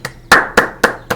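Hand clapping: four sharp, loud claps at an even, quick pace, close by with no talking.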